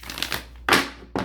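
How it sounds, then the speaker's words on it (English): Crisp riffling bursts of tarot cards being shuffled, a quick flutter followed by two sharper snaps, close and fairly loud. "one more shuffle"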